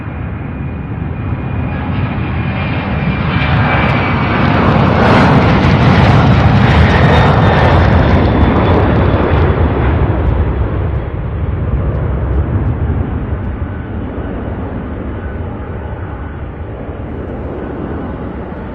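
A UPS cargo jet taxis at Louisville International Airport, a loud steady engine roar and whine that swells toward the middle and then slowly fades as it moves away.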